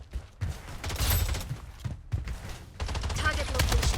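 Gunfire in the shooter game Blood Strike, several sharp bursts of rapid shots with short gaps between them, loud and close against ongoing game sounds.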